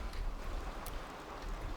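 Steady, dense rain pouring through a hole in a roof in Garry's Mod, an even wash of hiss and patter throughout with no talking.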